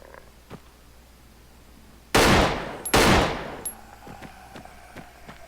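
Two loud, sharp gunshots from a 5.7 firearm in Arma 3 with the Ravage mod, fired about a second apart. Each crack trails off into echo, followed by faint scattered clicks and light impacts over a quiet ambient background.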